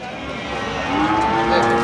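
A buffalo lets out a long, low moo that swells slightly louder, with a noisy livestock setting in the background at the Erragadda buffalo market in Hyderabad.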